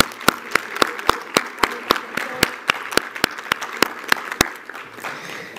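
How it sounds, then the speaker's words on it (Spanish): Applause in Mexico's Chamber of Deputies: steady rhythmic clapping with strong, evenly spaced sharp claps near the microphone over a softer wash of hands from the crowd, fading near the end. "Un aplauso, por favor."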